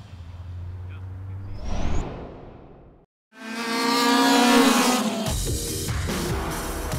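Stock car racing engines at a British Columbia track roar past, with a brief whoosh, a short lull, then a loud sustained engine drone that rises and holds before easing slightly.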